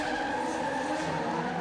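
Drift race car skidding through the scoring zones at a D1NZ Pro-Sport drift series round at Go Media Stadium in Auckland, giving a loud continuous tyre squeal and engine roar that holds steady.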